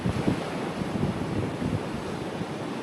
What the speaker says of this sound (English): The waves keep crashing against the stilts